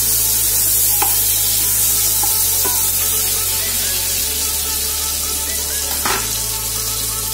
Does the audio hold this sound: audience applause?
no